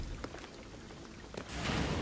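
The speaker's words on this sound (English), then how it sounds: "the rain is gonna flood this" Rain in the video game Shadow of the Tomb Raider, a steady broadband wash with scattered drops that swells louder and denser near the end, with no talking.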